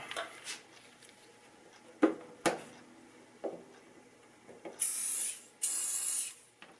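Gluboost glue accelerator is sprayed onto guitar binding being repaired, two short close hissing spray bursts standing out after a few soft taps and clicks in a quiet room.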